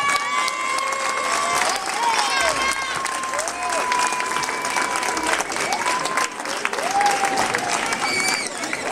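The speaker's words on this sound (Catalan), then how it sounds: "Un fort aplaudiment" A crowd at an outdoor demonstration for an immersive school in Perpignan applauds steadily, mixed with cheering, whistles and shouting voices, including children, carrying on across the whole stretch.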